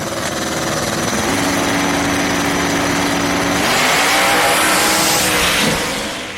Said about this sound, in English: Taking on Barriott from Barriott Skunk Works in a Pontiac Trans Am twin turbo.